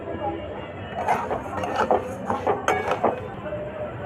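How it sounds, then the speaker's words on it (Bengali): Packaged vermicelli frying in ghee over a low gas flame, heard as soft scraping and light clinks of a spoon stirring in the pan, a few distinct knocks over a quiet sizzle, with no speech. "এবার ওই ঘিয়ের মধ্যে দিয়ে দেবো সিমই, প্যাকেটের সিমই যে পাওয়া যায় সেটা দিয়ে এবার খুব ভালো করে এটা ভেজে নেব।"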